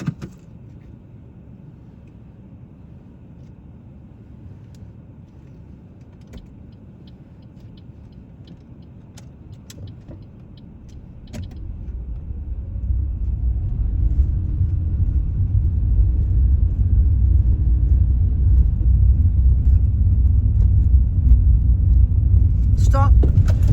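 A learner car pulls away during a mock driving test: a quiet idle hum inside the cabin swells into a louder, steady engine rumble as the car moves off, with a voice briefly heard at the start.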